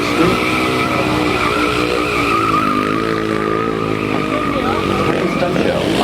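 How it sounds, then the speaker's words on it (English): Custom-built stunt show cars at a theme park backlot stunt show roar continuously with revving engines and screeching tire skids, loud and close throughout with no pause. "Here, the custom-built stunt show vehicles rev their engines up to 70 miles an hour"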